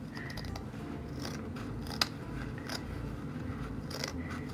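Scissors snipping excess fabric off corners in a thrift-store home decor makeover, a series of quiet, close crisp cuts at an uneven pace with a sharper snap midway, no talking.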